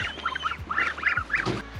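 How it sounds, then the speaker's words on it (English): Baby ducks in a small Moldovan village full of domesticated animals quack in a quick run of short, nasal calls, several overlapping squawks close by over faint background noise. "It's baby ducks."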